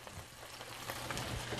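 Bacon fries in a pan with a soft, continuous crackling sizzle, faint and close, lasting under two seconds.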